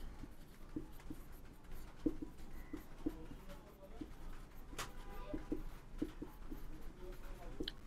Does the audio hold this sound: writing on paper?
yes